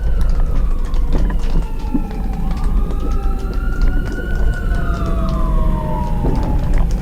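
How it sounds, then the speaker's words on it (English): A fire truck siren sweeps up and down in long wailing tones as the engine passes nearby on a street, heard over steady road rumble and traffic noise. "Yeah, that's all the sirens and all that."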